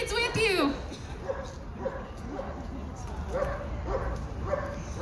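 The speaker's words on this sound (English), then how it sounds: "We have a dog over here that also supports Medicare for all." A dog barks and whimpers with yips at an outdoor Medicare for All rally in Denver, a high whine at the start followed by repeated short barks at moderate distance, mixed with crowd chatter and talking.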